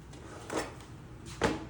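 Two soft sliding thumps from a drawer opening and closing in the galley of a Ferretti yacht, close and fairly quiet, about a second apart.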